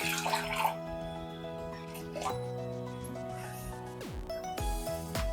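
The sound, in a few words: pouring water into a pot for rice flour dough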